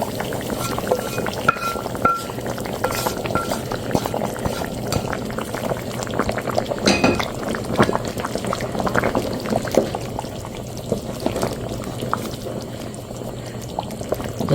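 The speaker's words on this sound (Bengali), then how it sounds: "আমি এখন বাগারটা দিয়ে দেবো।" Hot oil tempering of browned chili, onion and garlic is poured into a pot of simmering beef trotter nihari, giving a steady bubbling sizzle with crackles and a few light clinks, close and continuous throughout.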